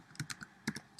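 Keys tapped on a computer keyboard while a short library name is typed, about nine quick clicks in uneven bursts over roughly a second, close and clear with no talking.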